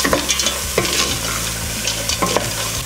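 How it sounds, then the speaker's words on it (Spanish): Half a kilo of beans tumbles into a pot where onion, basil and paprika are frying, setting off a loud, steady sizzle with scraping stir strokes at irregular intervals close by. "Vamos a agregar los porotos. Aquí mismo medio kilo de porotos."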